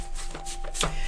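Tarot cards riffle briefly in a shuffle, a short papery flutter peaking near the end, close up and quiet with no talk over it.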